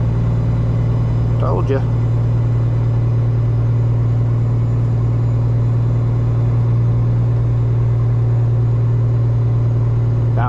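A truck engine slows on a steep downgrade at low revs, a loud, steady, low droning rumble throughout, with a voice speaking briefly near the start.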